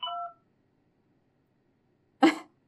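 A short burst of telephone dialing tones in the video game Whack Your Computer, a brief beep near the start and a louder noisy hit about two seconds later, with silence between.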